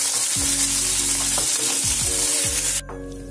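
Curry leaves crackle in hot oil, a loud dense sizzle over a steady low tonal hum that cuts off abruptly near the end.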